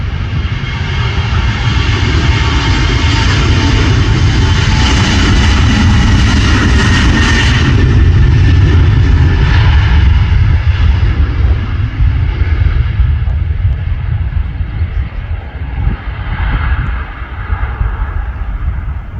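An Eastern Airways airliner takes off at Manchester Airport, a loud, steady jet engine roar with a broad rumble that holds for the whole stretch and then slowly eases off, heard from a nearby viewing area with no talking.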